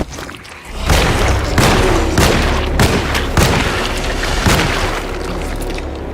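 Gunshots in the survival horror game Alone in the Dark, a series of loud booming blasts fired at irregular intervals over a low rumbling background.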